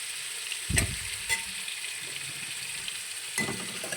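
Small cubes of paneer fry together in a pan, producing a soft, continuous sizzle broken by a few louder bumps from stirring or pieces shifting, with no talking.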